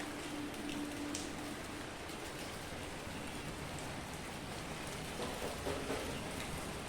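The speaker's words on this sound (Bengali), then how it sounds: "অল্প অল্প করে বৃষ্টি পড়ছে" Light rain patters steadily on surfaces, a soft continuous wash of drops with no voices.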